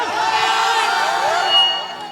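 A crowd shouts and cheers at a live Bhojpuri-style song performance, with a loud, sustained wash of many voices and scattered whoops that swell briefly near the end.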